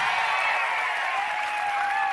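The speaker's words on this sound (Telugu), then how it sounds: "సిద్ధంగా ఉంటే చప్పట్లు కొట్టమని చెప్తున్నా" Steady, dense applause from a large crowd at a political rally in Andhra Pradesh, a continuous wash of clapping that holds at an even level throughout with no voices standing out.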